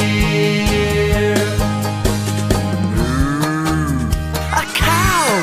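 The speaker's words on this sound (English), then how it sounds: "A cow," A cow moos in a long, loud drawn-out call with a falling pitch bend, close and clear over a steady low background, with no talk during the call.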